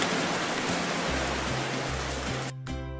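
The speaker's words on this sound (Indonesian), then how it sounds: "Terus, turun hujan asam." Acid rain falling, heard as an even, dense patter of rain with a low tonal hum underneath, cut off abruptly near the end.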